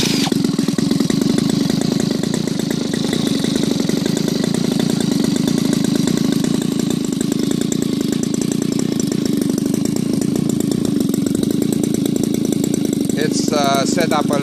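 An RCGF 26cc gasoline model airplane engine, converted to CH CDI ignition and running slightly rich on a 20:1 fuel mix, drones loudly and steadily close by, with a brief change in tone near the end.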